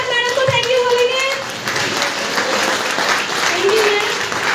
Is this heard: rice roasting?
no